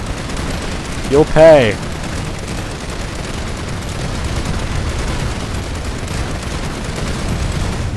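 Turret gunfire rattles on as a steady, fairly distant background din in the video game Planetside 2, with a man's brief spoken line heard over it early on.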